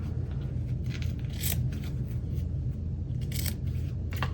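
Scissors cutting through layered chenille embroidery fabric, a series of soft snipping and crunching cuts over a steady low background hum, close and moderately quiet.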